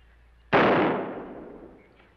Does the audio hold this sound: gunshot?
yes